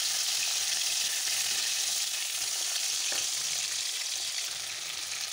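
Shrimp fry lightly in a pan, a continuous close hiss of sizzling oil that stays even throughout, with no voices.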